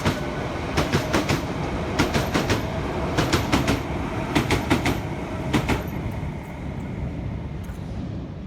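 A London Overground Class 378 electric train runs along the North London line near Stratford, its wheels beating a steady clickety-clack over rail joints in repeated pairs beneath a continuous rolling rumble, close by and loud, fading slightly at the end.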